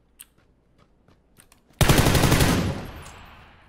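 Automatic gunfire from the video game PUBG: after near silence broken by a few faint clicks, a loud sustained burst of rapid shots erupts and then trails off into a decaying echo.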